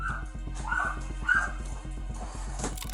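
Malnourished dogs in a filthy house bark, yip and whimper, several short cries over a steady low mechanical hum, close by.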